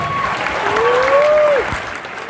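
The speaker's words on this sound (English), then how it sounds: "big round of applause for them" A pep rally crowd applauds the football parents and rally crew in a short, loud burst of clapping, with a thin whistle-like tone gliding above it.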